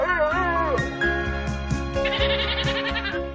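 Goat bleating among farm animals, a few wavering, nasal bleats in succession that come through close and clear over steady low background sound.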